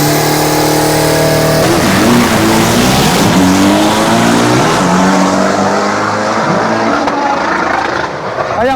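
A turbo diesel drag race car launches hard and accelerates loudly, its engine revving up in a rising roar, dropping briefly at a gear shift before climbing again at close range.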